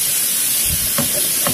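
Shallots, garlic, grated carrot and cabbage sautéing in a pan, a steady loud sizzle and hiss with a few soft stirring scrapes close by, and no one talking.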